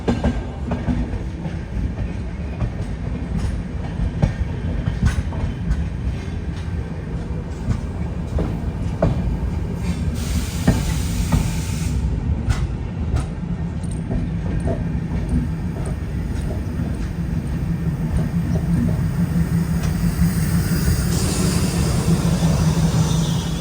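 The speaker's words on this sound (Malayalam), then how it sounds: "ട്രെയിൻ ഇതാ ഓഖ റെയിൽവേ സ്റ്റേഷനിലേക്ക് എത്തിക്കൊണ്ടിരിക്കുകയാണ്" A train on the Veraval to Okha line pulls into Okha railway station, a steady loud rumble of wheels on rails with rhythmic clickety-clack and occasional squeals throughout, no voices.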